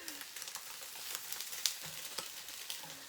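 Egg frying in a pan on a propane stove in a tiny house, a soft steady sizzle with scattered crackles and pops, close but fairly quiet, with no talk.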